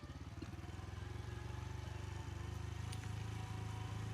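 A motorcycle engine runs steadily close by with a continuous low, throbbing rumble and no break, during a mountain road trip to the Neelam Valley.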